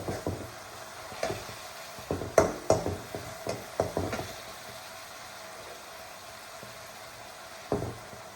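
Chopped green chilies and onion fry in a pan for a green peas paneer curry, with a soft continuous sizzle broken by sharp clustered scrapes and taps of stirring, fairly close and without talk.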